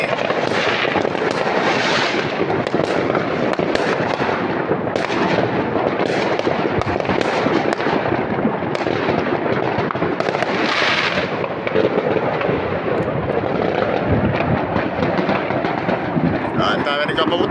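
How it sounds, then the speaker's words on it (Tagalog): Continuous loud New Year fireworks in the Netherlands crackle and boom from many directions, with overlapping bangs and popping bursts; voices can be heard talking beneath the noise. "Ang dami nagpapaputok. Daming fireworks."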